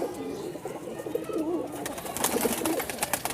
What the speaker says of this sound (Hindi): और ये भी कमगर कबूतर है, डब वाला बोल सकते हैं इसको आप।